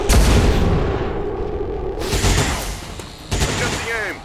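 Gunfire crackles through a tactical battle in XCOM 2, soldiers returning fire in bursts of shots that open loud and come back strongly near the end, with a voice talking over the action.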